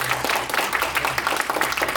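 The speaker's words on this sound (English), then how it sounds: "So please a round of applause for my friends." Short burst of audience clapping at a tech meetup panel, fairly loud and irregular with individual claps standing out over a low background hum.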